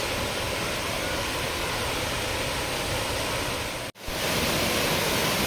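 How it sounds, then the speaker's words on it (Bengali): A rain-swollen waterfall in Keonjhar roars as a constant broadband rush, loud and steady with no voices, briefly interrupted by a sharp dropout before the wash resumes. "দেখা যাচ্ছে একটু একটু করে ঝর্ণার আওয়াজ আসছে।"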